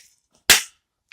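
A single sharp airsoft gun shot cracks out close by, short and snappy, with brief quiet before and after.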